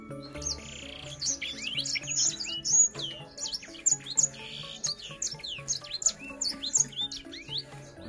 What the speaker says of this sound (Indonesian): Ya ini burung sanger.